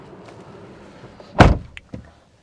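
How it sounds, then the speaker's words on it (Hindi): A Maruti Suzuki XL6 door shutting from inside the cabin, one loud close thud followed by a couple of faint clicks. "सबसे पहले डोर को कर लेते हैं बंद ताकि केबिन लाइट हो जाए ऑफ"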